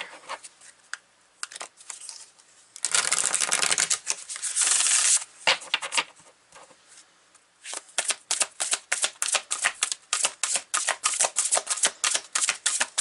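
Tarot cards being shuffled, pulled and laid down on a table: a dense riffling burst, then a long run of crisp, close card snaps and slaps in an even rhythm, with no talking.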